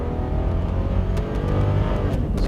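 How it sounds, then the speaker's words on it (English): A car with General Motors' new inline-six engine accelerates hard on a damp road, its steady engine drone close and loud, with no talking. "It's a very sporty engine, the new inline 6 from General Motors."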